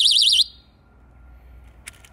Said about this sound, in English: Press the alarm button, the alarm will flash and the impact alarm will be activated.